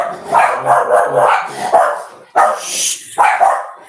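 A dog barks loudly and repeatedly up close, guarding against someone walking past on the street, with quick bursts broken by brief pauses.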